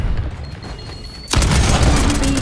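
A frag grenade explodes during a Call of Duty: Black Ops 6 Domination match, a sudden loud, broad blast that cuts in mid-clip after quieter game ambience and rumbles on to the end.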